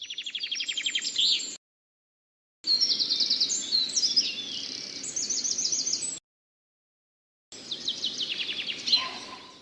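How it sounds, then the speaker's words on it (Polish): Birds singing in bursts of high, rapid chirps and trilled phrases, clear and fairly close, separated by brief complete silences. "Czy nie jest przyjemnie posłuchać śpiewu ptaków?"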